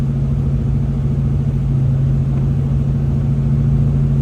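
A Ford SN95 Mustang's engine labours up a snowy hill with traction control active, a steady loud low hum that holds at a constant pitch throughout, close and alone with no voices.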